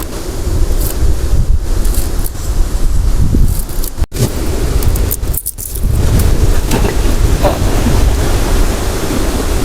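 Cold wind blows hard outdoors on a rainy day, roaring and buffeting the microphone in continuous gusts, with a couple of brief dropouts partway through.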